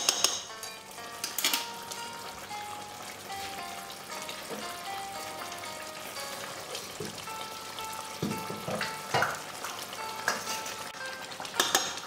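Mutton curry is stirred and sautéed in a pan with oil and spices, giving a continuous frying sizzle with scraping spoon strokes and occasional clinks against the metal, close up and with no voices.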